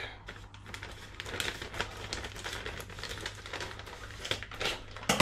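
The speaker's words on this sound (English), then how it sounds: "and we're going to open this pack" Crinkling plastic and sharp snips as scissors cut open a frozen doner kebab meat pack, close and fairly quiet, with a few louder crackles near the end.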